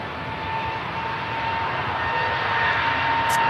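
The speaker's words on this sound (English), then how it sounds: "First the 2 EasyJet 320s now, departing 23 left." Jet engine roar from EasyJet Airbus A320s departing Manchester Airport runway 23 left, a steady broadband rumble that builds slightly and holds loud throughout, with no voices.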